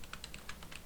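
Quick, light keystrokes on a computer keyboard, about eight soft clicks in under a second, close and quiet with no voices.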